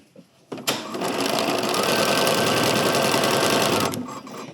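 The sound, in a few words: sewing machine hemming a long dress seam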